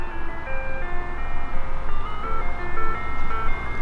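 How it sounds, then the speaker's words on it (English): An ice cream truck in a Warsaw, Kentucky street plays its tinkling jingle melody, steady and continuous over a low background rumble, with no one talking. "Looks like there's an ice cream truck coming by here way far in the distance."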